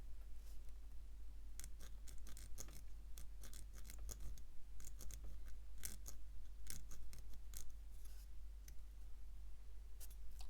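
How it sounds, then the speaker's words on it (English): A sprue nib is cut and trimmed from a plastic part of a 1/35 scale Challenger 2 TES tank model, heard as faint, irregular small clicks and snips close up in a quiet room. "I'm going to not remove that pip in the corner and endeavour to remove the sprue nib."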